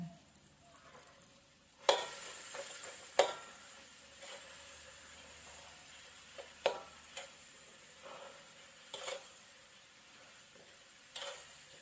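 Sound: stir-frying meat filling in a pan

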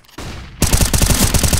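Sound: AK gunfire in video game CS:GO

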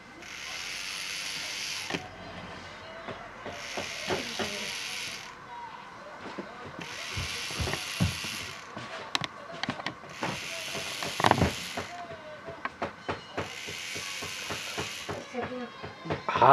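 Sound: Doron-kun robot toy moving, controlled by a Nintendo 3DS

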